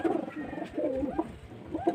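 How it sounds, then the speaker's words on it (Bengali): Madras pigeons coo nearby in a series of soft, rolling, throaty calls repeating every half second or so, close and clear with no voices. "খুব সুন্দর সুন্দর পায়রা আছে"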